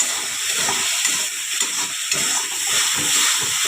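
Soybean chunks with sugar, salt and garam masala sizzling in a pan, a steady broadband hiss of frying with faint stirring scrapes running underneath, close and continuous with no voices.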